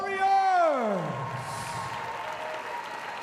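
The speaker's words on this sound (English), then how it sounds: "a round of applause for these warriors!" A crowd applauds the fighters after a Muay Thai bout, a steady wash of clapping that carries on after a loud announcer's voice fades out at the start.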